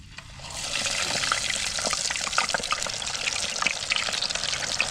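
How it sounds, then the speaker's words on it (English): Deep-frying oil sizzles loudly and steadily as rock bass fish, coated in mustard and hot sauce, are dropped into the hot oil, with a dense, crackling hiss throughout. "All right, I'm gonna go ahead and throw the fish in."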